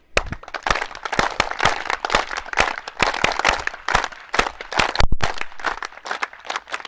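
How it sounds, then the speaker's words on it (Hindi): A group of people clapping hands together in rhythmic applause, the sharp claps dense and close, at an outdoor morning exercise gathering. "वीर ताली।"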